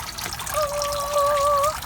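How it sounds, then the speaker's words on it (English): Small water pump drawing water up from the bottom of a broken bin in an urban agriculture setup, giving a close, steady trickling gurgle with a thin whining tone from the motor, no voices. "you can see it's pumping up water from the bottom of my broken bin"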